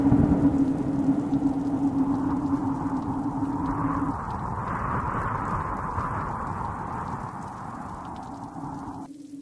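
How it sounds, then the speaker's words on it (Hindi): Heavy rain pours steadily in a dark night storm, a dense, loud, continuous hiss and patter with a low rumble underneath and no voices, cutting off abruptly at the very end. "जोरदार बारिश हो गई।"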